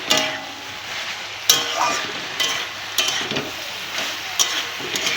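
Greens and vegetables being stir-fried in a pan over a low gas flame, a steady close sizzle broken by sharp, repeated spatula scrapes and clicks against the pan.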